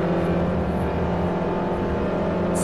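Loud continuous race car engine from Forza Motorsport 4 on Xbox 360, holding a steady high-revving hum while braking into a turn, with faint digital chirps near the end.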